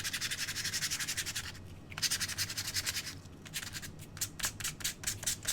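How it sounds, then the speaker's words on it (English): Small solid wooden pieces are hand sanded across the grain, a close rhythmic series of rasping back-and-forth strokes with a brief pause partway through. "you can just go ahead and sand these like across"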